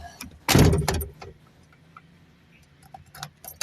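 A car door bangs shut loudly once, followed by faint rustling and small clicks inside the vehicle.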